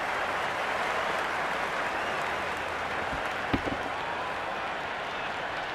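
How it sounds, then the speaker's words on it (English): Stadium crowd noise at a cricket match in the Cricket 26 video game, a steady broad roar of the stands holding at one level, with a single brief thump near the middle. "It's the most enthusiastic crowd you could ever see right now. There's a buzz, a real buzz coming from the stands."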